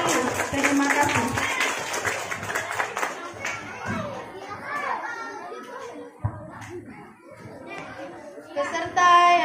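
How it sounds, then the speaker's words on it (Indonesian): Applause and clapping rise from an audience at a children's TPA Quran-recitation event for a young contestant, mixed with chatter and children's voices, fading as an announcer speaks over the crowd. "beri tepuk tangan yang meriah untuk Ade Adila Hazali"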